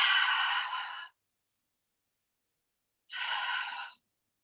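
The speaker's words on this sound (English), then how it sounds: "Exhaling through the mouth." Two breaths are exhaled through the mouth during a glute exercise, each about a second long, clear and close with a silent gap between them.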